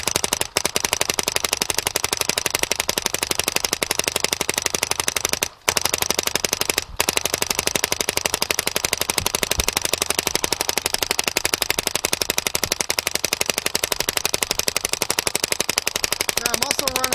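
An Angel Fly Joy Division paintball marker fires in a rapid, continuous stream during an efficiency test, dense mechanical popping close up with two brief pauses.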